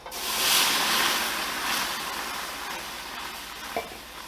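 Starchy pasta water hits a hot pan with cracked black pepper for cacio e pepe, a loud burst of sizzling that settles into a steady hiss with a small clink near the end.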